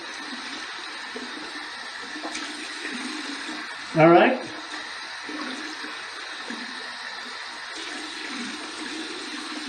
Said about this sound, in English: I'm giving it a good soak in warm water, not hot water, warm water.